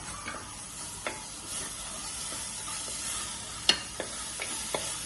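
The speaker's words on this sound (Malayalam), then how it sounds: "ഇനി നമ്മൾ മുറിച്ച് വെച്ച വാഴപ്പിണ്ടി ഇടാണ്." Chopped banana stem fries in a hot pan for banana stem pickle, a continuous close sizzle with a few sharp scrapes and clinks of the spoon as it is stirred, no talking.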